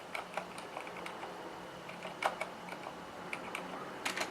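Soft, muted typing on a Corsair K70 RGB MK.2 Silent keyboard: a quiet, irregular patter of dampened keystrokes with a few slightly sharper clicks, close by and heard alone.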